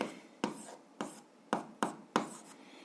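A pen scratches on paper in six short, distinct strokes at a steady pace, close and quiet, with no talking.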